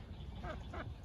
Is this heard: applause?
no